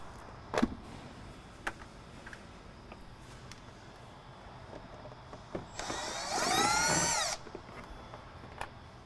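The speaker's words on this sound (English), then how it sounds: "So now we're going to go remove all these screws on the lower panel." A power drill backs screws out of the lower panel inside a 2025 Winnebago Revel camper van, a rising, whirring burst of about a second and a half near the end, after a few scattered clunks and quiet handling.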